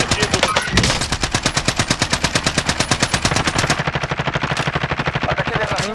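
Rapid automatic gunfire in a video game battle with a sniper among the shooters, a dense stream of evenly spaced loud shots running continuously, with a few voices faintly underneath.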